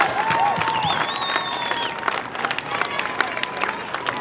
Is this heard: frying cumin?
no